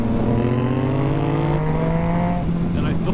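A Yamaha FZ-09 motorcycle fitted with a 15-tooth sprocket cruises in third gear, its engine a loud, steady drone whose pitch holds nearly level, with wind rushing past the rider.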